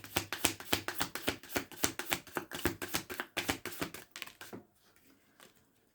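Tarot cards shuffled by hand, a rapid run of crisp riffling slaps repeating close up for about four seconds, then tapering into quiet softer handling as cards are drawn.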